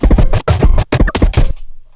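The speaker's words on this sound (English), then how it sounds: "I took this drum break, which sounds like this." A sampled drum break plays loud and close, a quick run of punchy hits in a busy syncopated pattern, then stops abruptly into near silence.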